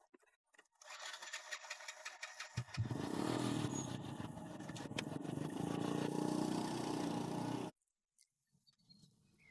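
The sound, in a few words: motorcycle engine starting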